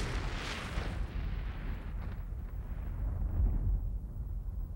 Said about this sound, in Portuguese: Bilhões de anos atrás, essa bola de fogo explodiu.